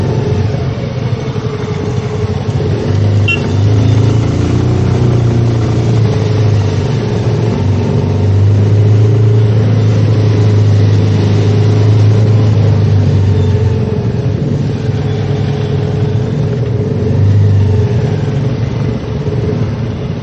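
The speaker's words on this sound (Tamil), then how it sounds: "என்னுடைய வண்டியில் கொஞ்சம் ஆக்சிலேட்டர் கொடுத்தாலும் டயர் சுற்றுது." A Royal Enfield Himalayan motorcycle accelerates on a black-ice mountain road near Khardung La in Ladakh, its steady mid-pitched engine droning loud and close for the whole stretch, with the revs rising and falling in a few brief surges.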